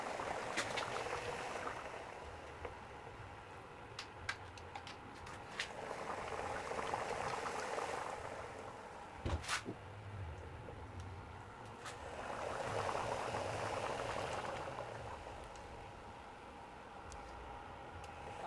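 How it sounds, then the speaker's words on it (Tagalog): Milkfish simmering in a covered pot of boiling coconut milk broth seasoned with fish sauce, a steady bubbling burble that swells and eases, with a brief clack partway through. "hayaan natin ang kumulo ng kumulo hanggang sa masipsip ng bangos ang sarap ng ginataang sabaw"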